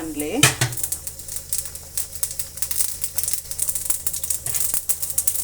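Mustard seeds sputter and pop in hot oil in a pan for a sprouted horse gram sambar tempering, with dense crackling and clinks of a spoon against the pan, a voice speaking briefly.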